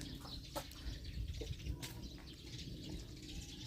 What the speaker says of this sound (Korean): 나는 우리 집에 예쁜 닭.